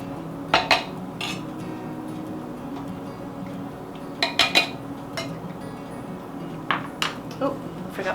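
Metal jar lids clink and rattle close by in a home kitchen while spiced apple preserves are being canned, with a few brief bright chinks over a low steady room hum.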